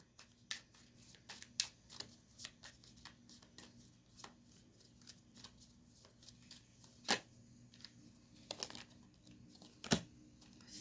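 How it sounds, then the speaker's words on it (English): Tarot card decks being shuffled by hand, soft papery riffles and crinkly flicks in irregular bursts, close and fairly quiet, with a few sharper snaps standing out. "You guys watch me shuffle these decks."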